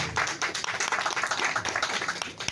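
An audience at a birthday celebration event in Chennai near Anna Centenary Library claps for the chief guest, a dense, continuous round of applause filling the short stretch at steady loudness.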